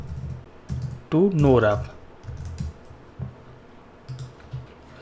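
Bursts of clicky computer keyboard typing come in short, irregular runs while someone talks partway through.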